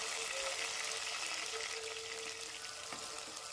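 Onions, tomatoes and garlic sautéing in a pan for a Tamil fish curry give a steady close sizzle with faint stirring, a continuous frying hiss throughout.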